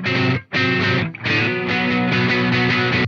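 Distorted electric guitar through the Blackstar St James amp sim, with the miked cabinets panned slightly apart for a phasing effect: loud, chunky chords in short bursts, then a sustained riff with a faintly swirling tone.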